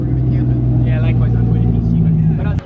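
A deep, steady American muscle car engine rumble idles loudly close by at a car show, a low throaty drone holding for a couple of seconds before cutting off.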